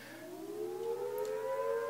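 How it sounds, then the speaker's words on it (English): An outdoor storm warning siren sounds with a rising wail, its steady tone climbing and holding, fairly distant but clearly audible with no voices. "A siren just turned on outside"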